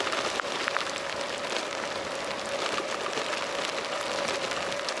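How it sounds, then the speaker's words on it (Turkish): Rain falls at İçmeler beach with a steady hiss and patter of drops on surfaces, moderately loud and continuous, with no speech heard. "Hem yağmur."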